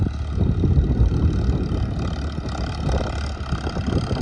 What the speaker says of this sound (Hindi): और ट्रैक्टर की स्पीड देख लो